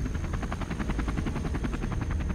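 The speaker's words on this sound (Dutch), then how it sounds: "als de gijzelaars het geluid van een helikopter horen" A helicopter flying over jungle, its rotor chop steady and continuous, close and loud with a fast rhythmic beat and no voices.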